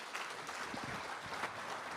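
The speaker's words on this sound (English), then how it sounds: "Let's give him a round of applause." Applause from an audience at a peace education event in a Zimbabwe prison, a soft, steady patter of clapping heard from a distance and continuing evenly throughout.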